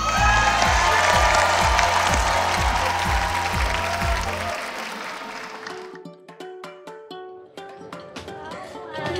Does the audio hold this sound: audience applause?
yes